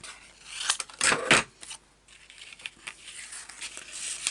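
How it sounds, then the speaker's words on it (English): A strip of paper for a mini brag wallet is cut with scissors: a few crisp snipping strokes close by near the middle, followed by softer rustling and paper handling. "Let's just cut that strip up there because that matches."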